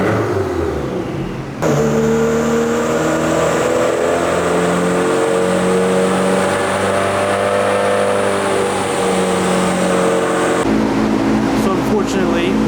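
A Subaru WRX on a dyno, its exhaust routed through a long sound-deadening tube, revs loud and close with a rising, sustained engine tone for about nine seconds before dropping back; voices are heard around it.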